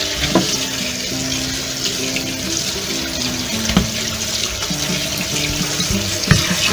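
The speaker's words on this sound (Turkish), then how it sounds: "Yıkayıp süzüyoruz." Purslane is rinsed under a running kitchen tap, with a steady close rush of water and occasional splashes and knocks as the leaves are handled. No one speaks.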